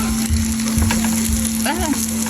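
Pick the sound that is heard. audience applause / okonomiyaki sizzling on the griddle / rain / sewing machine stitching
okonomiyaki sizzling on the griddle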